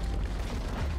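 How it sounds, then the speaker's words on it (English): A turret is destroyed in League of Legends, a short loud rumbling boom that fills the whole second with dense low-end crumble. "Blue team's turret has been destroyed."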